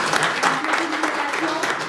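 Audience applause for an artist: dense, steady clapping from a crowd, fairly close and continuous throughout, with a few voices faintly mixed in.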